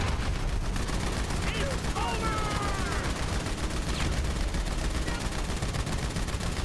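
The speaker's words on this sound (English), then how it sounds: "I love this tactical SMG, by the way." Sustained rapid bursts of tactical SMG fire in GTA V Online, loud and dense, with the crackle running continuously under a game mix.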